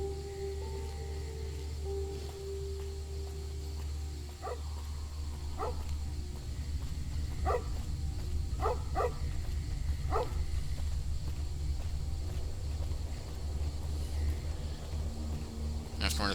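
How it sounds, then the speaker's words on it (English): A dog barks in a video game in short, spaced bursts over a steady low hum, moderately faint, with several quick barks clustered together. "I have to wonder if that's just JT barking to bark"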